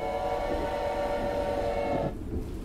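A long, loud, sustained train horn from the locomotive in the horror game Choo Choo Charles, blaring steadily over rumbling rail noise before cutting off, leaving the train's rumble.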